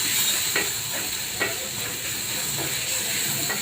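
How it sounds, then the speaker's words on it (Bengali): Garlic paste fries in hot oil for a fish dish, giving a steady, even sizzling hiss with a few faint soft clicks throughout. "তেলের সাথে ভালো করে রসুনটা ভাজা হইলে"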